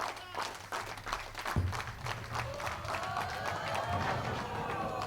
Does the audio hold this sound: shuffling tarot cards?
no